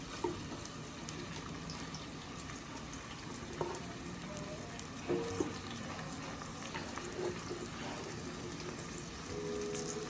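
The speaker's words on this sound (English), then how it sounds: "Now I'm going to take my meat and vegetables, put it in the pot, stir fry it a little bit." Meat and vegetables, including pre-seasoned barbecue rib meat, are stir-fried in a pot, giving a faint steady sizzle with light scraping and clinks from stirring, with no talk.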